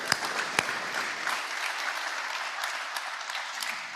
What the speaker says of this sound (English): So let's give ourselves a round of applause for that.